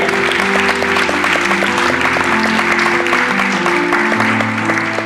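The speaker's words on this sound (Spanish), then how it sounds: "Denle un aplauso." A church congregation at a Spanish-language sermon breaks into loud, continuous applause that fills the whole span, with sustained keyboard or organ chords playing steadily underneath.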